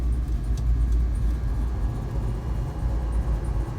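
Blower motor running inside a 1969 Ford Mustang Mach 1 with a built 351 cubic inch engine: a steady, low whirring rumble with a faint airy hiss on top, constant and close with no talking.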